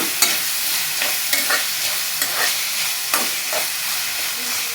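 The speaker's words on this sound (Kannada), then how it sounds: "ಟೊಮೆಟೊ ತೊಗೊಂಡಿದ್ನೆಲ್ಲ 2 ಹಾಕ್ತಾ ಇದ್ದೀನಿ. ಚೆನ್ನಾಗಿ ಫ್ರೈ ಮಾಡಬೇಕು." Tomatoes frying in a pan without water for tomato rice: a loud, continuous sizzle, with a spatula striking and stirring the pan about once a second, no talk.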